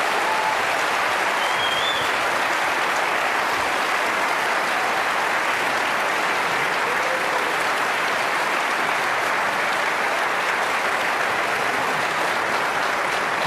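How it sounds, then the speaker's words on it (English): A theatre audience at a televised gubernatorial debate applauds the candidates, a dense, steady roar of many hands clapping that holds at full strength for the whole stretch without letting up. "Give me a big round of applause for our candidates."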